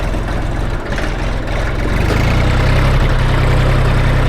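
A Jinma 3244HS tractor's 1532 cc direct-injection diesel engine idles loudly and close, a deep steady chugging rumble that shifts slightly in pitch midway and keeps running without pause.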